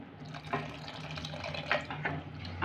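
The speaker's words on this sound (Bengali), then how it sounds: "3 বাটি জল দিলাম।" Warm water poured into a pan of mutton keema ghugni, a soft, steady splashing and trickling heard up close and fairly quiet.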